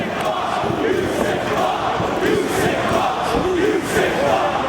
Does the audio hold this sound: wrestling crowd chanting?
yes